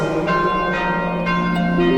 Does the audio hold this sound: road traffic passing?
no